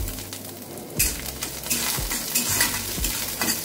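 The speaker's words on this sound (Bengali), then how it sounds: "আদা কুচিটা একটু ভালো করে ভেজে নিই" Chopped ginger frying in hot oil alongside black mustard seeds and dry red chillies, a steady close sizzle broken by a few utensil scrapes and knocks against the pan at regular intervals.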